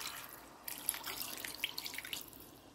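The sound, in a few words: water poured into pot for braised sauerkraut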